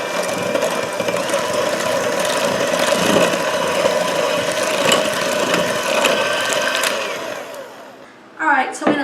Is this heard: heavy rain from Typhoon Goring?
no